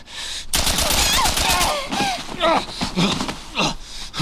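Rapid automatic gunfire in The Last of Us video game rattles loudly for about a second, followed by scattered shots, gasps and groans, with a voice speaking over it.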